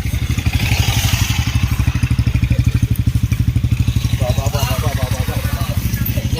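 A motorcycle on a slippery mountain path, its engine chugging in a loud, steady, rapid pulse close by, with people talking over it.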